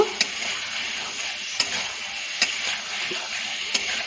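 Spice paste with a clove of garlic fries and is stirred in a pan for potol chingri, a Bengali pointed gourd and shrimp dish. A soft, steady sizzle runs under several sharp ticks of a spatula against the pan.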